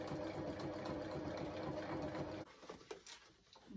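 A sewing machine stitches phone pockets onto costly wetsuit trousers, running as a steady, close mechanical whir for about two and a half seconds, then stopping and leaving faint handling noises.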